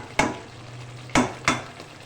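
Potatoes and onions being sauteed in a kadai, a low steady sizzle broken by three sharp spatula knocks against the pan, close up, with no voices.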